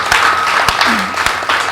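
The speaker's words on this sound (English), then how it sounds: "I think they need a big round of applause for this." Audience applauding magic show performers, a loud, close burst of clapping with sharp individual claps standing out, and a brief voice briefly heard under it.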